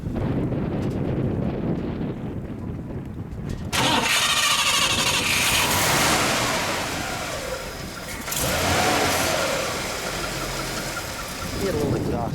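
An all-original 1960 Pontiac Bonneville convertible cranks over briefly, then catches and fires into a loud, rough idle with a couple of blips of the throttle, heard close with some wind noise.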